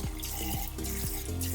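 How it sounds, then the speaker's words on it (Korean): Tap water runs steadily into a sink while shaving foam is rinsed off a face, with a brief splashing rhythm of hands dipping under the flow, close and alone. "이렇게 면도를 마치고 나서 남아있는 쉐이빙 폼을 헹궈줄 때 조금 시원한 물로 해주시면"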